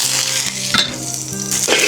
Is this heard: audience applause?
no